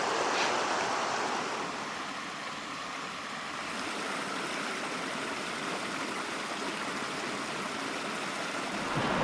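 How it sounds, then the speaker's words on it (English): Water rushes steadily through a small icy waterfall on a frozen stream at Stone Mountain, North Carolina, a broad, even wash of flow that stays constant and fairly close throughout. "It's so cool, all the water moving through."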